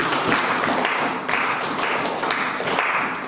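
A church congregation clapping together in steady rhythmic waves, a broad wash of many hands filling the room, loud and close, with no clear talk over it.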